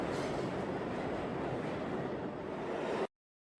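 A subway train running on the 19 line, a loud, steady rumble of wheels and car noise filling the space without a break before cutting off abruptly near the end.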